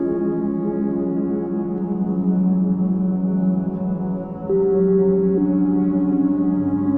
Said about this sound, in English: We have a bass line, a main melody, we have a secondary contrapoint melody, and texture.